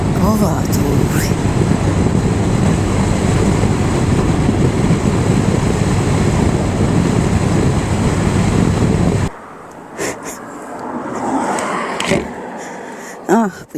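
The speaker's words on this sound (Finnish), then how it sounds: "Kova tuuli." Strong wind at Kilpisjärvi roars and buffets the microphone as a loud, constant rush for most of the stretch, then drops abruptly to a quieter gusting with a few bumps near the end.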